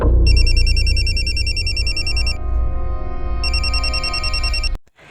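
A telephone rings loudly with a trilling electronic bell in two long bursts separated by a pause, over a low background rumble.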